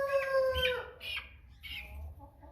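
An American Bresse chicken about five and a half weeks old squawks and clucks close by while it is handled, giving a few sharp calls in quick succession with quiet gaps between them.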